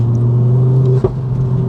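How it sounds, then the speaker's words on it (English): A Cupra 300 engine hums at a steady low drone from inside the car, broken around midway by a single sharp pop from the exhaust before the even rumble resumes. "The pops from the exhaust."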